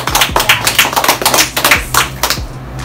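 An audience applauds a Tiens company product presentation with loud, close hand claps, crisp individual smacks in an uneven patter that tails off at the end.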